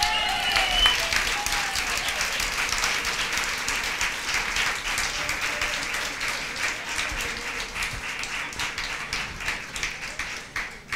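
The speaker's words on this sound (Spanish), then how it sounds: "Denle un aplauso." A crowd at a Torah teaching gathering claps steadily in a sustained round of applause that slowly tapers off, with scattered individual claps standing out near the end.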